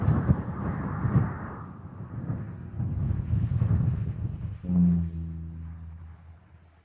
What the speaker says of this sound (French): Il doit y avoir au moins 30 nœuds de vent.